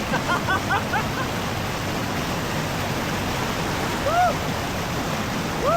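Steady broadband rush of the Labi River flowing in Nueva Ecija fills the whole clip, with a few faint chirping calls in the background.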